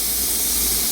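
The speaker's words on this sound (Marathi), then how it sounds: "इकडं आपलं कुकर पण शिट्ट्या देत आहे." A pressure cooker cooking dal lets off a loud, continuous steam whistle, a steady hissing rush heard up close with no talking over it.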